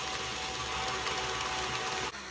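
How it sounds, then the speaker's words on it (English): An electric mixer whirs steadily through banana bread batter in a home kitchen, a close, continuous buzzing hum that dips briefly near the end. "Turn on the mixer."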